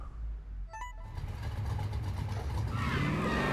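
Car driving in Need for Speed Heat: engine noise rises from a quiet start into a steady, loud rumble with a climbing rev, after a brief tonal chime near the beginning.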